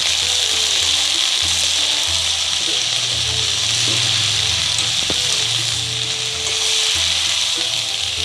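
Mustard greens with salt cooking in a pan hiss and sizzle loudly and steadily, with occasional stirring scrapes and low rumbling from the stove.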